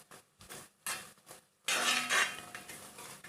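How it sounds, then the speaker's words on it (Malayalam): A spoon stirs pineapple pudding mixture in a pan: a few short, separate scrapes and clinks, then a louder, continuous scraping stir close by. "നന്നായിട്ട് ഇളക്കി കൊടുക്കുക"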